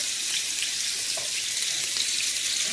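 Water poured into a cooking pot holding a chuck roast, giving a steady, loud hissing splash that continues without a break for a few seconds, with no voices.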